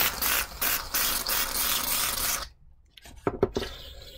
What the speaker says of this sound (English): I am going to spray some shaving cream.